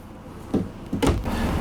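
Kitchen drawers in a Forest River FR3 30DS Class A motorhome, with a bank of four drawers under the counter, sliding and thudding shut in two or three quick wooden knocks and rumbles at close range.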